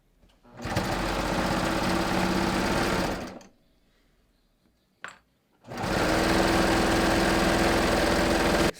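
A sewing machine stitches a leggings crotch seam in two loud, close bursts of rapid whirring, with a pause and a brief clunk between them.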